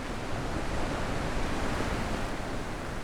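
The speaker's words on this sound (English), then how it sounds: "Loud roars of the waterfalls." Waterfalls roar in a continuous broadband rush, loud and steady with no breaks or voices, heard in the game The Witness.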